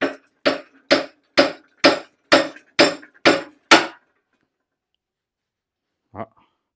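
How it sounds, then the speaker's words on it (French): Small hammer striking a metal piece during heat-treatment work, nine sharp, evenly spaced ringing blows close up, then silence and one lighter tap. "Je prends juste ce petit marteau-là."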